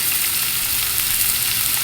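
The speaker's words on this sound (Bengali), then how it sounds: "আলু কুচি দেওয়ার পর হালকা নাড়াচাড়া করে নেব।" Chopped potatoes fry in oil in a pan for a small-fish chorchori while they are lightly stirred. A dense, loud, continuous sizzle fills the moment with no talk.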